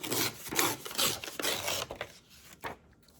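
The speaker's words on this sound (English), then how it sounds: "So I think I will tear this much off." A sheet of paper torn off for a handmade journal envelope, giving close, loud ripping strokes in several bursts that fade into a few quieter tugs.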